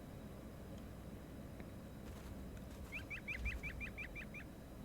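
A creature in the video game ARK gives a rapid run of about nine chirping bird calls, moderately loud over a steady ambient background, with a few fainter chirps just before.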